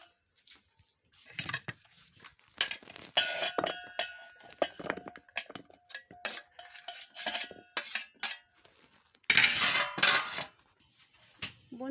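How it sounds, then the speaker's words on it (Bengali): Ingredients being tipped into a container, giving a string of irregular clinks and clatters of metal and glass, close and fairly quiet, with brief pauses between bursts. "এবার আমি এগুলিকে একটা পাত্রে নিয়ে নেব।"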